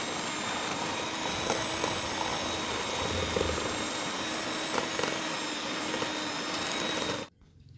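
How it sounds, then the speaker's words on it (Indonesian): An electric hand mixer whirs loudly and steadily, beating a single egg white for chocolate cheese cookies, then cuts off abruptly near the end. "Dan yang pertama aku kocok putih telurnya."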